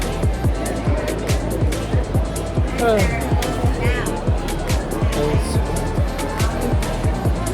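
A car drives along steadily, with engine and road noise pulsing in a regular rhythm and a faint squeal at moments, while people talk over it.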